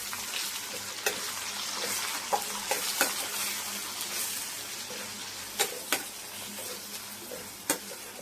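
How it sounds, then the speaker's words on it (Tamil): Garlic, onion and tomato sauté in a pan on low heat, a soft steady sizzle broken by sharp clicks of a spoon stirring against the metal. "இப்போ நல்லா வதக்கி விட்டுடலாம்."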